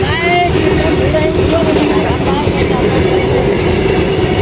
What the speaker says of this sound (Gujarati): માલ ગાડી છે